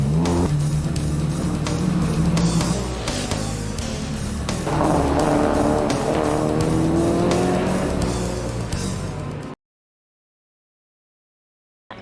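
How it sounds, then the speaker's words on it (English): Mazda RX-7 race car at an underground racing event, its engine loud and sustained with rising revs and a possible tire squeal, running continuously before cutting off abruptly near the end. "This is an RX-7."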